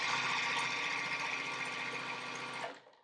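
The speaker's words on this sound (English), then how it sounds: "sew that final 1/4-inch seam on the 4-patch" A sewing machine stitching a quarter-inch seam on a quilt four-patch made from precut fabric, running in a fast, steady mechanical rattle up close before stopping abruptly near the end.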